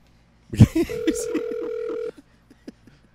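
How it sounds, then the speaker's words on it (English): Several short telephone keypad tones sound, followed by a steady held tone and then a few faint clicks and blips, with a brief voice at the start. "I just dialed some random numbers."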